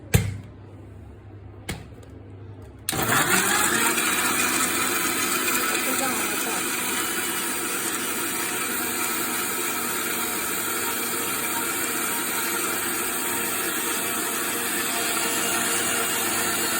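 A kitchen mixer grinder whirs continuously while blending mango juice with sugar, starting abruptly after a few quiet seconds and holding a loud, steady grinding hum to the end.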